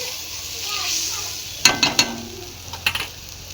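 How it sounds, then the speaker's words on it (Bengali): Spice masala with chopped tomato being fried and stirred in a pan, a low continuous sizzle broken by a few sharp spatula clacks against the pan, close and fairly loud. "পুরো মশলাটাকে এরকম ভালো করে কষে নেব"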